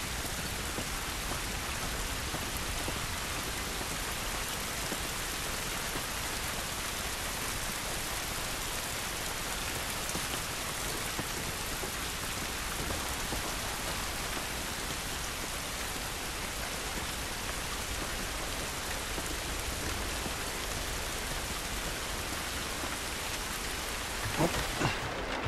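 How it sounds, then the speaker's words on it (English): Steady, heavy rain falls outdoors in the video game The Last of Us Remastered, a dense, constant wash with thunder underneath and a few sharper knocks near the end. "This rain ain't gonna do us any good."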